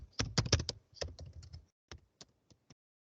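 Laptop keys clatter in a quick burst of rapid presses, then a few spaced single taps trail off into quiet, up close with no speech.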